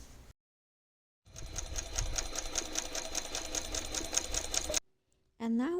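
A sewing machine stitches folded fabric with fusible interfacing in a steady, rapid mechanical whir lasting several seconds. It starts after a brief pause and stops abruptly, and a voice is heard briefly at the end.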